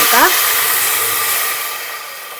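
Water splashes into a hot pressure cooker holding whole peppercorns, cloves and cinnamon, erupting into a loud, rushing hiss of steam that slowly fades over two seconds, briefly overlapping a voice at the start.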